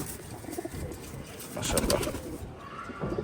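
Chila and Giribaj flying-line pigeons, mostly hens with a couple of males, coo softly and continuously in a loft, a low distant burble with one short spoken word over it.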